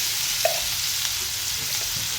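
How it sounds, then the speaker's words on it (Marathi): Thecha, a coarse crushed chili mix, frying in oil with cumin, giving a dense, even sizzle close by with a brief tap of a utensil early on. "आता याच्यामध्ये आपला ठेचा टाकून घ्यायचा आहे"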